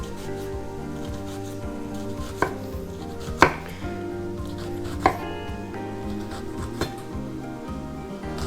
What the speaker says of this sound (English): Try to make the dices of the onions large enough that you can see them, you can taste them.